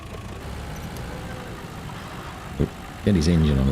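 A truck engine in the RoadCraft video game turns over and settles into a steady low idle, rumbling loudly near the end after a short cough, with talk over the game noise throughout.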